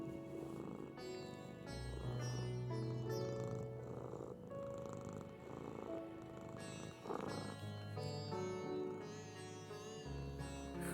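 A kitten's steady purr rolls on for several seconds close to the microphone, a low continuous rumble partly blended with background music, with no one speaking.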